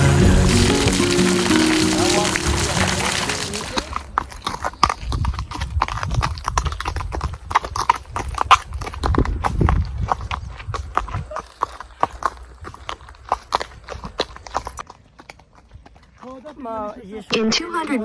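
A horse's hooves clip-clop steadily on a road in Georgia, a close, regular rhythm that follows a stretch of music and runs on with a voice near the end.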